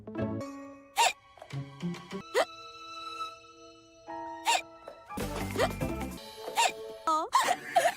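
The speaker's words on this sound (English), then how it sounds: "Arguing always gives me the hiccups." A cartoon character hiccups several times over a few seconds, each hiccup a sharp, brief vocal burst amid sustained background music and light jingling sounds.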